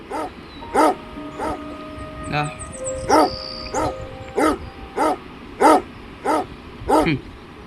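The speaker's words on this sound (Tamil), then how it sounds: "இன்னும் அவன் போனால் இந்த நாய் வருது" Repeated dog barks from Bad Granny Chapter 2, a horror video game, come roughly every half second to second, loud and close, with a few higher yips, a short whimper and other game sounds in between.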